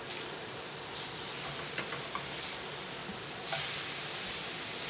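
Food sizzling and hissing in a hot pan as it is flipped, a steady fry with a few light clinks of a utensil before the sizzle swells louder.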